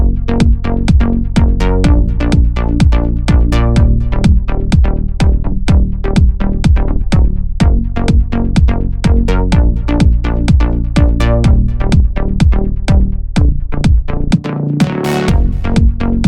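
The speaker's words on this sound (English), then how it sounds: "the preset for this exact bass line is this bass electro yo" A deep house synth bass line from the bass electro preset pulses in steady, evenly spaced plucky notes, loud and upfront, looping for the whole stretch with a brief dip near the end.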